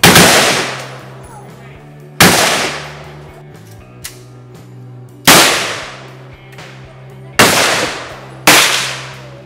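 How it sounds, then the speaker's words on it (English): Loud single AK-47 gunshots at a shooting range near the Cu Chi Tunnels ring out one at a time with pauses between, each crack followed by a decaying echo, plus a faint distant pop. "the unnerving sound of gunfire gets louder and louder"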